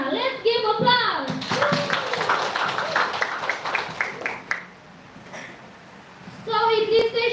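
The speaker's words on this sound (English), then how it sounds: "Let's give applause!" Audience applause from a student panel discussion class breaks out, with scattered hand clapping mixed with voices. It fades out and talk resumes at the end.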